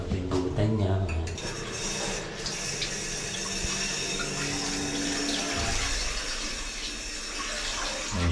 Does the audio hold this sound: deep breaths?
no